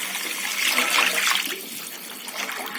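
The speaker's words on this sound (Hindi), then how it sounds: "तकरीबन 1 लीटर के करीब आप इसमें पानी डालिए" Water pours into a soup pot while a Manchow soup is being prepared, a steady splashing rush that swells and then tapers off, with no one talking.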